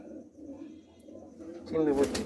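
Pigeons coo softly in a breeding loft, with low rolling calls throughout and a louder, closer coo near the end. Someone talks briefly over them.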